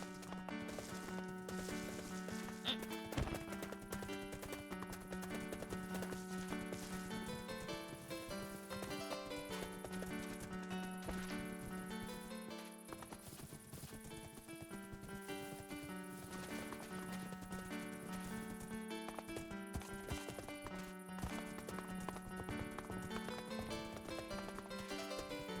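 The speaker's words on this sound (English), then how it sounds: "I wanted to trek on a horse all the way out to Almouge" Horse hooves clip-clopping steadily in the Minecraft-based game Wynncraft during a long ride, a continuous rhythmic trot heard under a constant layer of game music.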